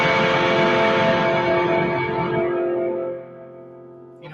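A loud, distorted electric guitar chord rings through a Blackstar amp, sustaining and slowly fading for about three seconds before a fresh hit starts at the very end, with no one talking.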